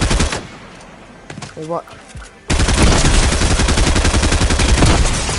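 After a brief spoken exclamation, a newly added gun in Fortnite's 2023 summer update opens up in a loud, sustained stream of rapid shots that fills the rest of the clip.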